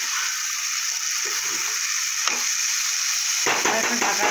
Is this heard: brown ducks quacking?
no